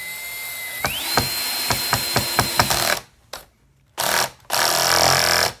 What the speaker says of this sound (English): And then I'm going to take this screw and screw it in.